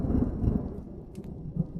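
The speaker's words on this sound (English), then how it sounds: "Rain hammers against the roof, relentless and depressing." Rain and thunder sound effect in an audio story about survivors fleeing zombies: a deep rolling rumble of thunder over a wash of steady rain, loud at first and then fading slightly.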